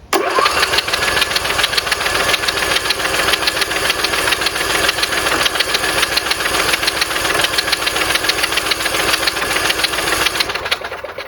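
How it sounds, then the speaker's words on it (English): A seized riding mower engine cranks continuously with a rapid, rhythmic chugging whir, loud and close, never quite catching, for about eleven seconds. "let's crank it consistently for a little bit"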